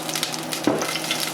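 Hot olive oil sizzling and crackling steadily in a preheated pot, a close, continuous frying hiss with small pops and a soft clink partway through.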